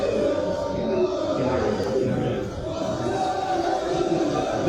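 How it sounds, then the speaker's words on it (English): A crowd gathers in front of a collation center during a parliamentary results dispute, a dense murmur of many voices that stays steady and close throughout, with a reporter speaking over it. "we have a crowd gathering in front of the race"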